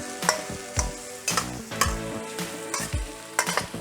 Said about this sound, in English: Sichuan peppercorns, red ones, and go with a quick stir.